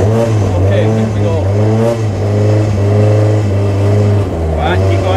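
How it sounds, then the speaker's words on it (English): A Scania 124L 400 truck engine, converted to a motorhome and car transporter, revs in first gear with a deep, loud, rising and falling drone, while people talk over it. "We're still in first gear. Rev it up now a bit."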